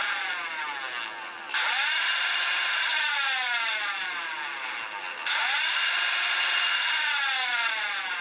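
A small electric motor in an End War 2017 toy blaster, shell open, whirs in two steady revs, each rising in a sharp surge then holding a high sustained whine close by, with no talk.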